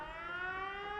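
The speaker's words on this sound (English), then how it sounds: "So, let me turn the siren off." A wailing siren in the video game Fallout 76 sounds as a steady, multi-toned electronic drone that slowly rises in pitch, quiet and heard alone for about a second.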